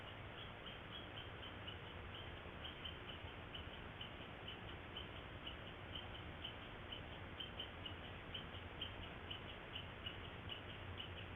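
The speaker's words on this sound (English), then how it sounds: "And in the background, you'll hear a very upset squirrel." A squirrel scolds somewhere in a forest, captured by a trail camera, its faint, repeated chattering calls sitting low under a steady background hiss for several seconds.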